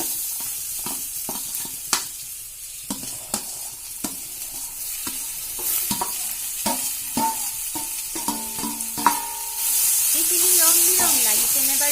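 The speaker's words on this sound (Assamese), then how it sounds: "এতিয়া পিয়াজখিনি ভজাৰ পিছত কাটি লোৱা সবজিখিনি দি দিম।" Chopped vegetables added to onions frying with salt and turmeric in a pan, a continuous sizzle broken by repeated clacks of the stirring spoon, rising to a louder rushing hiss with steam near the end.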